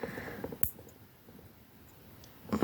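Nail clippers cut fingernails short, giving one sharp, crisp click close up amid quiet, faint handling noise, with a second snip near the end.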